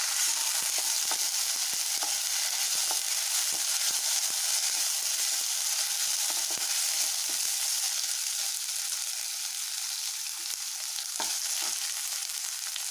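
Ginger garlic paste being stirred into a chicken mixture frying in a pan for a chicken omelette, a steady loud sizzle with soft scraping strokes of a spoon throughout.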